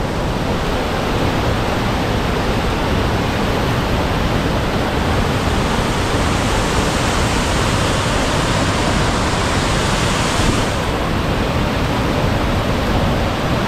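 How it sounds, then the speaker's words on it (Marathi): Steady rushing of a small river near Kakadwal Waterfall, Gothanipada village, loud and continuous flowing water with no voices. "ही छोटीशी एक नदी आहे, त्यातनं पाणी वाहत आहे"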